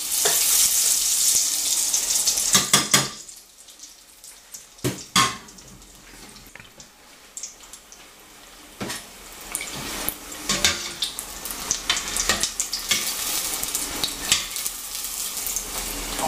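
Steady sizzling and bubbling of Sicilian arancini frying in hot oil, loud at first, then quieter crackling with occasional sharper pops.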